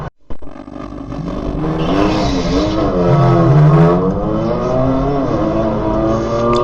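A car races hard, the engine revving and climbing in pitch as it accelerates, loud and close with a sweeping engine tone; a Tesla Model 3 running against a Dodge Demon.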